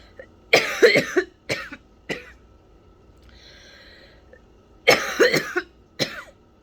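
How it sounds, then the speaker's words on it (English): Two fits of close, raspy coughing, each a quick cluster of coughs, separated by a quiet pause. "just kind of bear with me with my coughing. It's gonna happen a lot"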